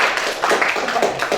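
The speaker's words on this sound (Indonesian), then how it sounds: "Baik, tepuk tangan untuk yang pasti" A classroom of students clapping for a classmate, a short burst of dense, fairly close handclaps lasting just over a second.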